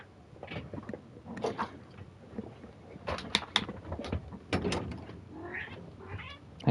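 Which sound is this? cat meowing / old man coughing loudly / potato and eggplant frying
cat meowing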